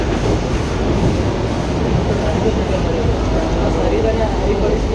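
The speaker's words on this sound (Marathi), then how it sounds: "एसी ट्रेननेच प्रवास करायचा आहे आपल्याला." An AC local train travels from Bandra toward Bhayandar, giving a steady, enveloping rumble of wheels and carriage noise that stays even and constant from start to end.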